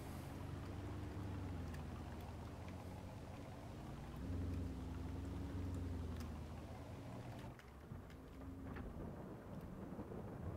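Steady rain falling in the farming game Farming Simulator 22, a dense continuous hiss with a low droning engine-like hum underneath, constant throughout.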